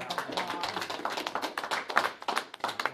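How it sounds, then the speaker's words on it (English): Scattered hand clapping from a small community gathering, light and fairly quiet, with uneven individual claps rather than a dense roar. "deserves a round of applause"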